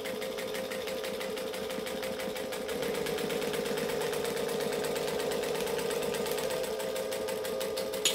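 A sewing machine runs steadily for several seconds, stitching fabric on a tutorial garment, a continuous close mechanical whir with rapid needle rhythm that rises slightly in intensity partway through, with no talking.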